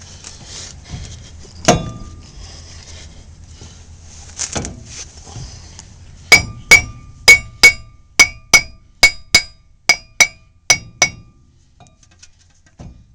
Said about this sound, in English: It's my Thor hammer.